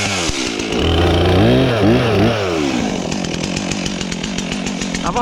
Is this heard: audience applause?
no